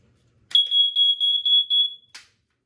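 Large smoke alarm made in 1993 lets out one loud, shrill, sustained high-pitched tone lasting about a second and a half, with a slight pulsing, close up and with no speech over it.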